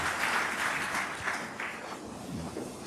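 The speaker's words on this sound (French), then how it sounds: "Nous acclamons la parole du Seigneur." A church congregation applauds during a Sunday worship service, a dense, continuous roar of many hands clapping that holds steady and eases slightly toward the end.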